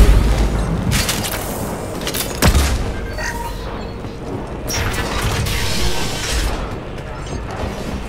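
Bombing explosions in Mass Effect 2 Legendary Edition, heavy booms and crashing blasts rumbling over about eight seconds, with one sharp loud hit near the middle and a dense, continuous roar of battle noise.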